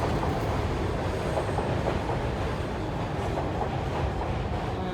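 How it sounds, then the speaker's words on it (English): A train rumbles past nearby, a continuous heavy roar of wheels on rails with faint rhythmic clatter throughout. "when I'm watching a video and a train comes by, it's always going bang, bang, bang"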